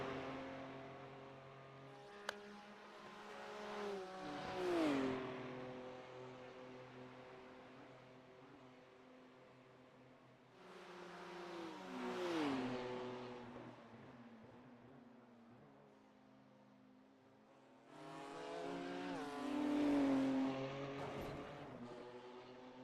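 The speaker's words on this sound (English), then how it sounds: "I realized that the BMW sounds like an off-brand TIE fighter." A BMW race car in iRacing at the Nürburgring 24 Hours, its engine rising and falling in three long, whining acceleration sweeps with gear changes, fairly quiet and alone.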